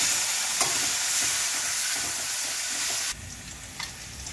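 Vegetable stalks fry in hot oil with five-spice in a pan, a loud, steady close sizzle with stirring, which suddenly drops to a quieter sizzle near the end.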